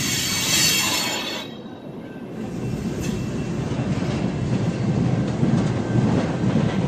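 A long freight train of chassis cars rolls past at close range, a loud steady rumble with clattering wheels and a brief high squeal near the start.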